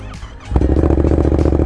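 A 2018 Yamaha MT-07 motorcycle engine fires up after a quiet moment and settles into a loud, steady, throbbing idle close by, with no one talking.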